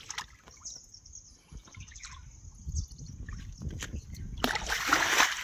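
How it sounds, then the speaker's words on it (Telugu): Water splashes loudly near the end while hunting frogs near a stream in a hilly spot, after quieter rustling, faint bird calls and brief background voices. "నీళ్ళు చల్లుతాం."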